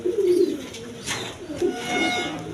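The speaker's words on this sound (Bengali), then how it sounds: "এখানে এক পেয়ার কবুতর আছে দেখেন অ্যান্ডোলেশিয়ান কালার ডেনিস কবুতর" A pair of Andalusian-colour Danish pigeons, a hen and a cock, give a few short, close cooing calls in quick succession.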